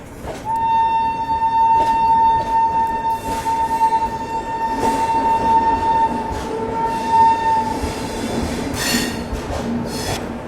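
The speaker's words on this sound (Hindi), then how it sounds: "महानगरी एक्सप्रेस" The Mahanagari Express rolls along steadily with a constant rumble and clatter, and a sustained horn tone sounds over the running noise for most of the stretch. It is loud and near.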